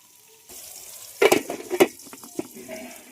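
Food sizzles in hot oil in a pan while chicken curry is cooked: a low steady sizzle with a few louder bursts of spattering and stirring in the middle, and no talk.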